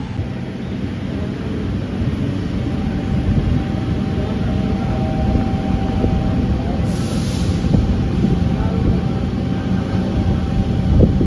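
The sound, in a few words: train departing station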